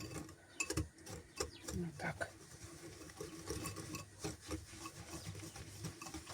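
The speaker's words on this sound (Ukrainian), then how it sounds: "Так, це беремо і отак перемішуємо." A spoon stirs cherry cheesecake filling in a bowl, making repeated soft scraping and rubbing strokes against the bowl at an uneven pace, close and moderately loud.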